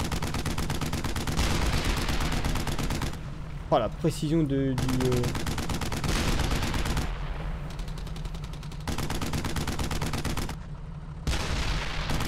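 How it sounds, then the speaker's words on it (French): Cannon and gunfire in the World War II shooter Brothers In Arms: Hell's Highway, with dense rapid firing and booms running throughout, briefly broken by short gaps. Someone speaks over the shooting. "on va utiliser les canons de toute façon"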